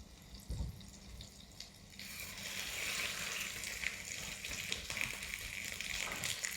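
A salmon fillet is laid skin side down into a hot buttered pan and breaks into a steady, fairly loud sizzle that keeps crackling after a quieter start and a small clatter.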